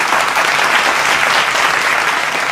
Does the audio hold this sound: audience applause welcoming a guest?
yes